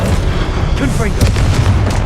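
In Hogwarts Legacy, a Confringo fire-blast spell explodes in a heavy, booming burst amid the clatter of a duel, with a voice calling out spells over the din.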